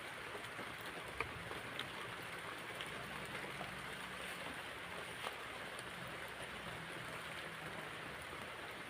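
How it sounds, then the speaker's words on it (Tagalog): Steady rain falls outdoors in a continuous even hiss, with occasional faint drips and no voices over it. "So guys, umuulan."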